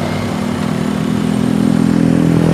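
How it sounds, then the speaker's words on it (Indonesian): A 2010 Suzuki SX4 X-Over's 1500cc DOHC four-cylinder engine idles steadily under an open hood, a close, even low hum running unbroken throughout with no talk. "kita lihat langsung aja mesin dari SX4 ini"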